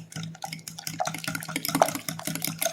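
Fork beating eggs and pumpkin pie ingredients in a bowl, quick rhythmic wet tapping and clinking strokes repeating close up for a few seconds, no voices.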